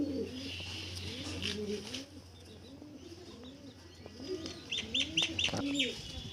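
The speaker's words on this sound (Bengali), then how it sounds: "খুব বড় সাইজের পায়রা চকলেট দোমা।" A large chocolate dom pigeon coos in repeated soft, throaty phrases close by, with a few short higher chirps near the end.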